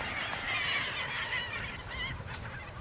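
Seagulls on a sandy beach call out in a cluster of harsh, overlapping squawks as they are chased, heard moderately close over a constant background wash.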